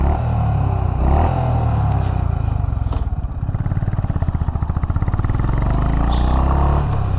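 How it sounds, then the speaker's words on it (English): A Honda H'ness CB350 motorcycle's 348cc engine idles loudly and close by, its steady chugging rising briefly as it revs, then settling back. "So the engine sound is very decent."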